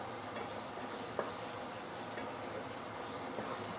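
Sugar being stirred in a pan for an ikan bakar sauce gives a steady, soft scraping hiss with a faint sizzle, continuous and moderately quiet, with one small clink partway through.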